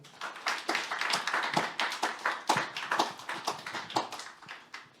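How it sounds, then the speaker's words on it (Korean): A small audience at a Korean middle-school church service claps together, a fairly quick run of distinct sharp hand claps in a roomy space, steady for several seconds before tapering off. "박수 쳐주세요."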